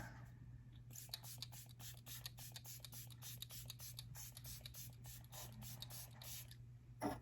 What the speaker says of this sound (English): I'll put some setting spray on